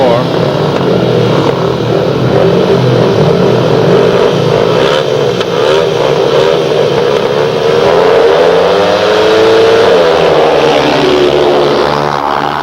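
Speedway motorcycles snarl away from the start gate at a 2002 Premier League meeting, engines revving loud and rising in pitch as they race off, with a commentator speaking over the roar.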